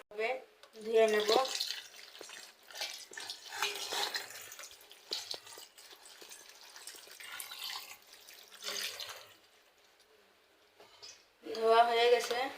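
Boiled pasta is rinsed under cold running tap water, in intermittent bursts of gushing and splashing separated by quieter gaps.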